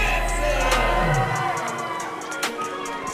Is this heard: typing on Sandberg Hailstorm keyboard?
no